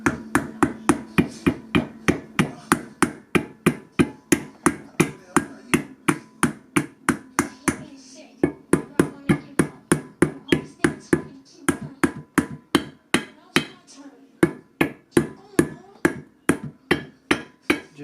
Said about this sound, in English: take your little hammer